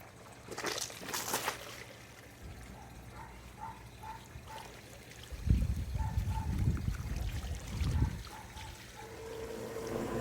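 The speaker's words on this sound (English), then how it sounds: "you can push the water down to where it's draining" Water trickling and draining off a winter cover on an inground swimming pool, a soft steady dribble with a few louder sloshing surges partway through, fairly quiet and with no talking.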